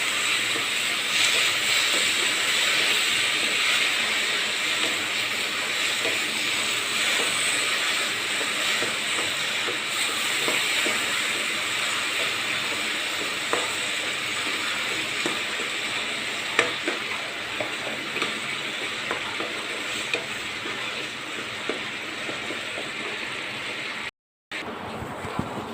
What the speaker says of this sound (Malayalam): പഞ്ചസാര അലിയാൻ കുറച്ച് വെള്ളം ചേർക്കുന്നുണ്ട് കേട്ടോ.